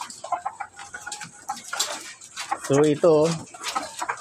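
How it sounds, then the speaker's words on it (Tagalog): Farm hens cluck a couple of times, close and fairly loud, amid light clatter while someone talks nearby. "ayan ang ating tatlong inahin yan, tapos isang 7 months"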